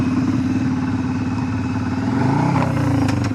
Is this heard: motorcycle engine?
yes